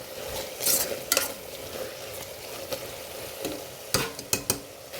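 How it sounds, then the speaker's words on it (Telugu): Soya chunks frying in a pan as homemade garam masala is stirred in, with a soft steady sizzle punctuated by several sharp scraping strokes of a spoon against the pan, near and clear. "ఇప్పుడు ఇందులోనే కొంచెం హోమ్ మేడ్ గరం మసాలా వేసుకోండి. వేసుకున్న తర్వాత మంచిగా దీన్ని కలుపుకోండి."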